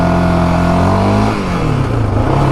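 A 2024 Yamaha Raptor 700R SE ATV, ridden new during break-in, revs loud and close, its engine droning steadily before dipping and picking back up with a rougher, shifting tone.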